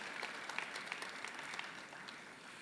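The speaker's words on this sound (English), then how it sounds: "So let's give Nelson a great round of applause for the work he does to move us forward in the future." Audience applause at a Regina Chinese Freemason Year of the Pig celebration in 2019, a soft, somewhat distant patter of many hands clapping steadily for a couple of seconds with no talk over it.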